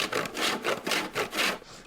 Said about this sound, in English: you want to do it on the coarsest grater